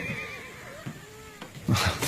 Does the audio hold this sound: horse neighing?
yes